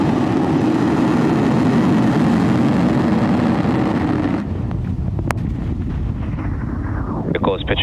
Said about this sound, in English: Liftoff of Falcon 9.